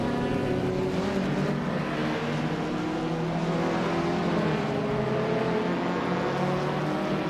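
A 2014 Abarth 500 racing car in a racing video game drones at a steady high engine pitch, holding a sustained tone with slight shifts in revs and no clear pauses.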